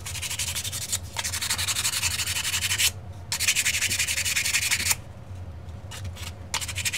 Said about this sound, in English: I'm not using a really coarse sandpaper here.